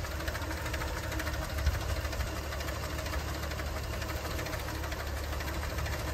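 A 1951 Nash engine idles very slowly at about 255 RPM, rough and low, with a steady uneven chugging and knocking, close and continuous throughout.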